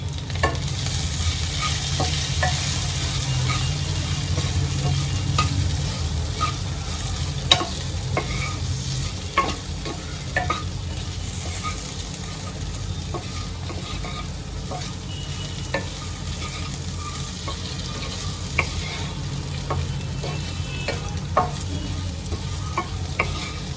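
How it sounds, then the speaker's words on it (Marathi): Okra being stirred with salt, asafoetida and spices in a hot frying pan, a steady sizzle running throughout with scattered scrapes and clinks of the spoon against the pan. "आता या सर्वांना मी एकत्र करून घेते"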